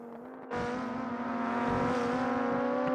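A Formula Three race car engine bursts in after half a second of quiet, a loud, steady high-pitched drone with strong harmonics that holds close and sustained through the rest, lap 23 on a Grand Prix circuit.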